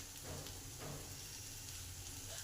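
Pasta frying in a pan with a spoonful of tomato sauce gives a steady, soft, continuous sizzle with no break.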